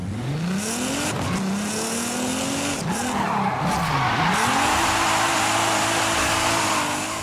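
Nissan GT-R R35 in Forza Horizon 5, its engine revving and shifting through gears on a quarter-mile drag race, loud and continuous with tire squeal.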